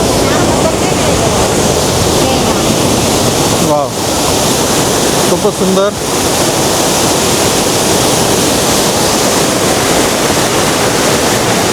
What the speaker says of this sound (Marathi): धबधबा बघा बघा धबधबा बघा किती सुंदर आहे